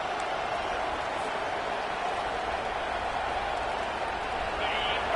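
College football stadium crowd roaring in a dense, continuous wash of cheering and noise, loud and sustained, with no distinct voices standing out.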